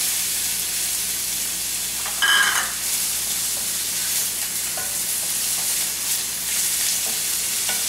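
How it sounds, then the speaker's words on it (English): Sliced yellow onion sizzles in extra virgin olive oil in a pan for a vegetable succotash, giving a steady close frying hiss, with a louder burst of stirring and occasional light scrapes. "Going to give this a good mix, and we're going to cook this about 2 to 3 minutes."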